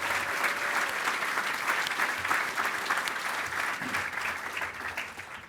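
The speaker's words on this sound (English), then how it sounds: "Let's give a round of applause for Honda and Steve Morikawa." An audience at a city State of the City address applauds steadily throughout, a dense wash of many hands clapping at moderate distance with no voices over it.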